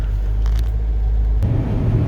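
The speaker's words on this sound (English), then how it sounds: "The car is still running." A C5 Corvette runs while being driven on a highway, giving a loud steady low engine rumble and drone inside the car with no talk.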